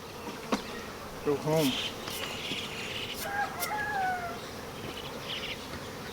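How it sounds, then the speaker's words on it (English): Honey bees drone in a steady, faint buzz around a hive frame pulled out during honey extraction, with a voice speaking briefly over the hum and a few brief clucking or chirping sounds nearby. "Try to get these bees off of here."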